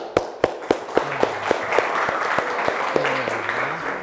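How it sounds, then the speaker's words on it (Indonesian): A classroom audience applauds after group presentations: a few sharp separate claps at first build into a steady wash of clapping, with a teacher's voice briefly heard underneath. "Sebelum ini silahkan aplaus dulu."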